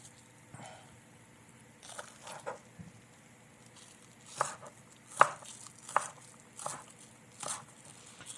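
Knife chopping spring onions on a board for portabella mushroom tacos, a scattering of irregular sharp taps, some clustered, fairly close and quiet against a low background hum.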